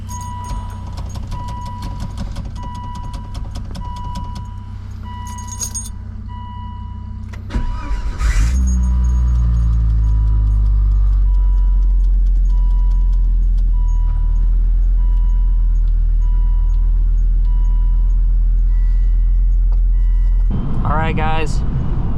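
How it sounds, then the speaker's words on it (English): A turbocharged Volvo S60R with a manual gearbox cold-starts: a brief cranking whir, then the engine catches into a loud, steady, close idle with a rising rev near the end, preceded by a low background hum. "Cold start for the boys."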